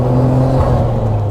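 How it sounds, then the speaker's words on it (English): Nissan Skyline R34 GTR engine with a quiet stock exhaust, revving in a steady rising hum with a low rumble, moderately loud and close, no talking. "This R34 GTR is way too quiet."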